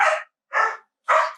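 A dog barks three times in quick succession, sharp and close, with short silent gaps between each bark and no talking.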